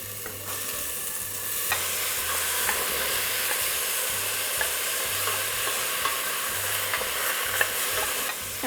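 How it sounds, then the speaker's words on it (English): Tomatoes for a Vietnamese crab, pork and tomato noodle soup sautéing in a pan, a steady close sizzle and frying crackle with faint occasional stirring, alone without talk. "Gonna let that saute for a couple of minutes."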